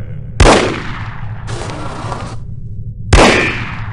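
Two sharp, loud gunshots from the video game No One Lives Forever ring out a few seconds apart, with a metallic clatter between them over a low steady hum; no talking.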